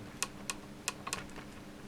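Notes typed on a keyboard: a short run of five or six separate, crisp key clicks at an uneven pace, close and alone.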